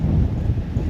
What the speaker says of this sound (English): It's so windy. I hope it's not a problem for my microphone.